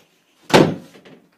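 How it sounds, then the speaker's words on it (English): A door slams once, a single loud close thud with a short rattle after it, alone in an otherwise quiet moment. "Don't slam the door, Casey's in bed"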